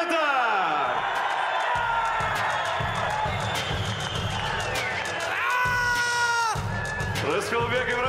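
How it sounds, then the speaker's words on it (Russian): An arena crowd at an ACA 147 mixed martial arts event cheers and applauds in a dense, steady roar, with an announcer's amplified voice talking over it throughout. "Дайте аплодисменты!"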